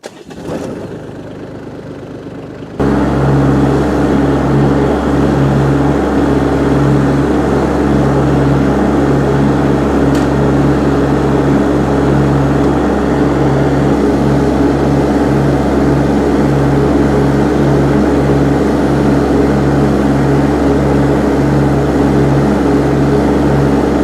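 An Iseki SXG323+ ride-on mower with a 600-litre hopper starts up after a brief quiet moment, then holds a loud, steady engine drone with a strong low hum that stays constant and nearby to the end.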